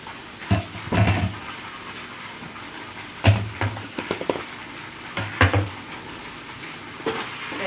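Rice noodles hiss and sizzle in a hot wok while a utensil scrapes and stirs in bursts, with clattering against the pan and no talking.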